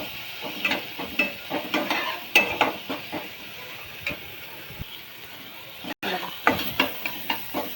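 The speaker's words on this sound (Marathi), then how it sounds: "थोडंसं मीठ टाकून घेऊया. म्हणजे कांदा टोमॅटो पटकन भाजल." Onion, tomato and kokum fry with a pinch of salt in a pan. Rhythmic stirring clinks and scrapes sound over a soft, low sizzle, with a brief pause partway through.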